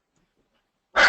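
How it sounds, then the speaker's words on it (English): Dogs in a house give a short, loud burst of barking right at the end, after near silence. "I apologize for the dogs."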